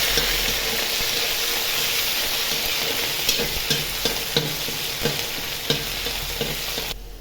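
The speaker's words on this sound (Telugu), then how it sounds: "ఇప్పుడు ముందుగా తరిగి పెట్టుకున్న ఉల్లిపాయ ముక్కలు వేసుకోవాలి. ఇలా బాగా కలుపుకోవాలండి." Chopped onions sizzle steadily in a hot pan as they are stirred, a constant loud frying hiss broken by regular scraping strokes of the spoon.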